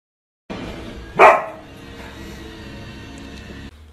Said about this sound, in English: Oh, just a happy, happy, happy dog.